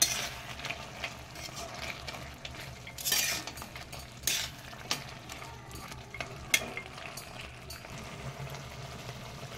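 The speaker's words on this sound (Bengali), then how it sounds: "এবার আমি ভেজে রাখা বড়িগুলো এখানে দিয়ে দিচ্ছি। হালকা একটু নাড়াচাড়া করে নিচ্ছি।" Fried lentil dumplings gently stirred into a cauliflower-stalk chorchori in a pan, heard as a low sizzle with occasional utensil scrapes and clinks against the pan, close and fairly quiet, with no speech.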